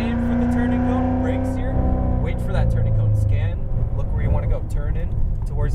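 A Chevrolet Corvette Z06 Stingray engine pulls hard under acceleration, a loud droning roar whose pitch climbs steadily while someone speaks over it on track.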